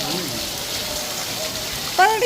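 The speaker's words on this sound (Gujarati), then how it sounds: "અમે રાહ જોઈશી કે વરસાદ રહી જાય પણ વરસાદ રહેવાનું નામ જ નથી રહેતો" Steady wash of heavy rainfall, with a short voice-like tone breaking in near the end.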